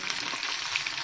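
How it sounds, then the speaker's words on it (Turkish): Cleaned fish frying in oil in a pan, a dense, steady crackling sizzle close by, continuous and fairly loud throughout the short moment with no voices. "Böyle çevire çevire kızartıyoruz."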